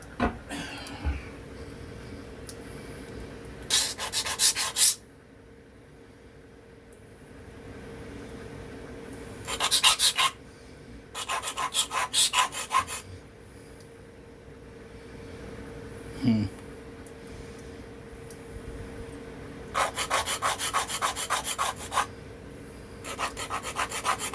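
A Remington Barlow knife blade scraped back and forth across a sharpening plate in several bursts of rasping strokes, each run lasting a second or two, separated by quiet pauses and one short clink, close and fairly loud.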